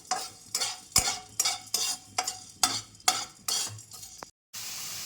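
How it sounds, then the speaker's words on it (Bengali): Whole black peppercorns dry roasting in a pan, stirred in a steady rhythm of about ten short scraping, rattling strokes, close and fairly loud, with no talk; a brief gap of silence near the end gives way to a flat hiss. "গোটা গোলমরিচ জাস্ট হালকা একটু ড্রাই রোস্ট করে এটাকে আমি একটু গুঁড়ো করে নেব"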